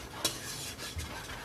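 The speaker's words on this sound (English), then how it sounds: "Now we're gonna whisk this in. And this is gonna build my roux." A whisk works a toasted butter roux in a pan for a seafood mac and cheese, producing faint close scraping and light metallic clinks over a soft sizzle, brief and quiet.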